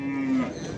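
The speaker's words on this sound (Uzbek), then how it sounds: "yaxshi sigir ekan" A single cow at a Shahrisabz livestock bazaar gives one short, loud moo lasting under half a second, with a steady market murmur underneath.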